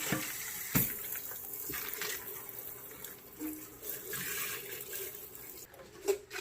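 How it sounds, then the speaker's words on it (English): Clean running water rinses a hollowed pumpkin, a faint, continuous splashing wash with a few soft knocks and a brighter spatter near the end, fairly quiet and unbroken by speech. "we just need to wash it by the plain and clean water"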